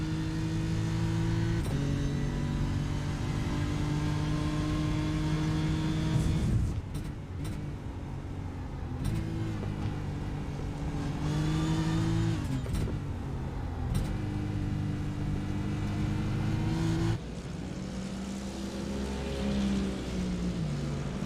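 A BMW M4 race car at the Silverstone 24-hour Britcar race, heard onboard: a loud engine note climbing and dropping through repeated gear changes, with rushing wind and road noise throughout.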